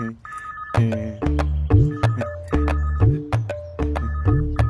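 A landline telephone rings repeatedly, a series of bright, loud electronic ring bursts in a steady rhythm, close by with no talking.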